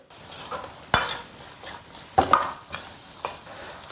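Twice-cooked pork with green and red peppers and young ginger stir-fried over high heat in a wok, with a few sharp scraping clanks of the utensil against the pan over a soft steady sizzle, no talk.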